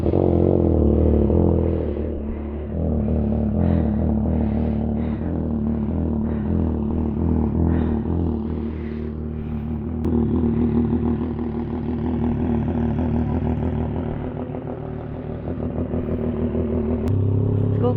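A CFMOTO 750SR-S motorcycle engine cold starts and revs unevenly, then settles into a loud, rough idle with clattering mechanical noise throughout, close by.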